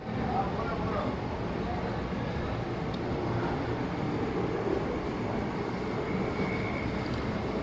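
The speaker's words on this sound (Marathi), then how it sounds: "कसाऱ्यावरून आपली ट्रेन निघालेली आहे." A sleeper train pulls out of Kasara with banker engines attached, giving a steady, loud rumble of wheels and carriage noise that runs unbroken throughout.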